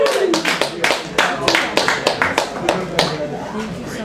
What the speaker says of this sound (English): Give us a round of applause for Debasery.